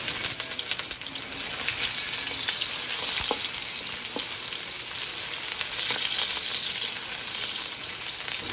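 Garlic and onion sautéing in a pan give a loud, steady close sizzle with occasional stirring clicks, running unbroken with no talk.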